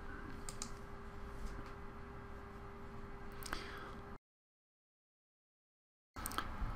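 Someone types a password on a computer keyboard, light clicky keystrokes over steady background hum, then a stretch of silence before sound resumes.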